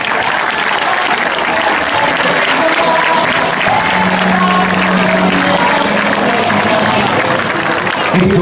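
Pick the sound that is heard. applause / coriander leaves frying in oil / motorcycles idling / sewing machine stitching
applause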